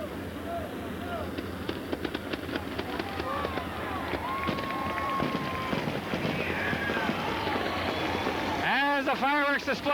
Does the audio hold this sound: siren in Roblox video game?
no